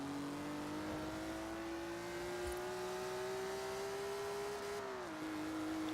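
In a racing video game, a Maserati A6GCS/53 Pininfarina Berlinetta accelerates along a highway, its engine droning at a steadily rising pitch and briefly dipping at a gear change near the end, with no talking.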